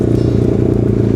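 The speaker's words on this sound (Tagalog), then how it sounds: "Pinaandar na yung isang motor." A motorcycle engine running steadily at close range with a dense low rumble and rapid firing pulses, loud and continuous, with light clatter on top.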